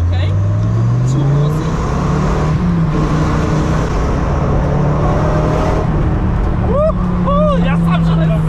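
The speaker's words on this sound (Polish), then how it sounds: "No to przyspieszenie w Viperze sprawdźmy." Dodge Viper sports car accelerating hard, a loud sustained engine roar rising in pitch across the run with a brief whine near the end, while people inside the car talk over it.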